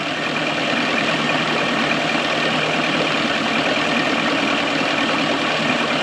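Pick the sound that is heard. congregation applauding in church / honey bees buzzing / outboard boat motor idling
outboard boat motor idling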